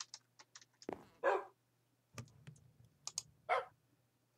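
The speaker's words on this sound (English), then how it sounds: "It's a baby doggy." Soft bark-like yips from a baby wolf puppy in the Minecraft video game, several short bursts spaced over a few seconds, with light clicking of keys or a mouse around them.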